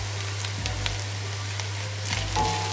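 Turmeric and spices fry in a pan for chicken biryani, a steady close sizzle with light crackling throughout.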